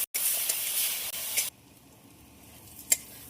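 Potatoes frying in a pan with turmeric, coriander and cumin powder give a loud, steady sizzle that drops to a quieter hiss partway through, with a brief stirring clatter near the end.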